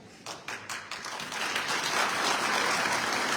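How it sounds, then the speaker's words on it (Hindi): A crowd at a Bhim Army political rally claps, starting with a few separate claps that quickly swell into continuous, dense applause, steady and fairly loud to the end. "ताली बजा के अपने दिमाग को डिस्टर्ब मत करो"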